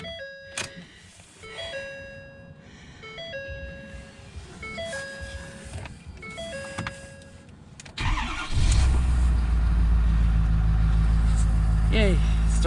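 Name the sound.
race car engine starting and idling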